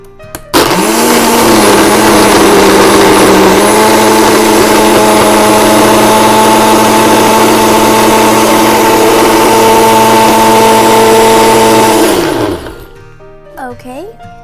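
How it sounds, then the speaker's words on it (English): A kitchen blender mixes a mango lassi with heavy cream and ice cubes, whirring loud and steady for about twelve seconds after a quick start, then winding down before faint talk follows. "put on your blender and mix it well"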